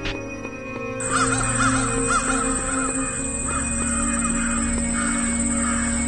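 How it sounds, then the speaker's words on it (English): Crows caw repeatedly in the video game Seven Mysteries over a steady electronic drone and high whine, a layered, continuous soundscape with no talking. "Damn it, crows."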